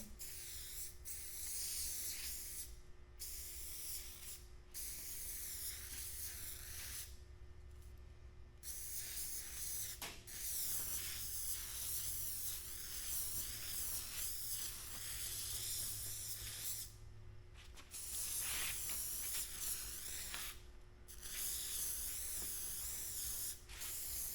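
An aerosol can sprays in long, continuous hissing bursts, broken by short pauses, close and steady throughout.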